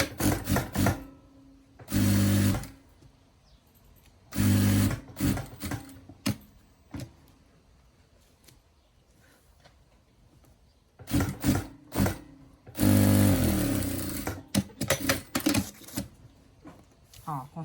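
Short bursts of sewing machine stitching close the side of a zip pouch, separated by quieter stretches with handling noises and a voice talking between runs.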